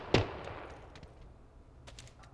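A single sharp gunshot in the game PUBG, loud and close, cracking out right at the start and then trailing into a faint decaying echo with quiet background noise.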